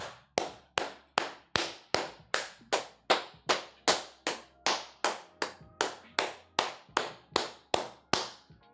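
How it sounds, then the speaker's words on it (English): Steady, evenly spaced hand claps, about two per second, sharp and close, repeating alone without any talking. "I'm gonna clap it up, y'all."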